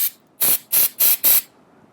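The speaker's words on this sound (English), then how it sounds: "so it gets in there so you can spray it in all the nooks and crannies all throughout the tank" Goof Off Pro Strength Remover, a high-pressure aerosol, sprayed into a motorcycle fuel tank in four quick, loud hissing bursts evenly spaced about a quarter second apart, close up with no talking.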